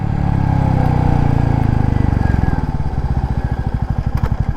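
A 2024 Royal Enfield Classic 350 decelerates with its rear brake applied, the single-cylinder thump slowing into a distinct, loud chugging beat as the bike comes down from speed, heard close without talking.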